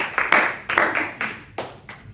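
A church congregation applauds with brisk, fairly loud hand clapping, bursts of many hands that surge and fade in a loose rhythm, close and with no talk over it.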